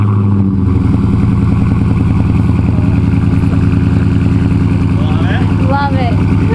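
A car engine fires up from cold and settles into a loud, steady, throbbing idle with a busy mechanical clatter, heard up close as voices speak over it.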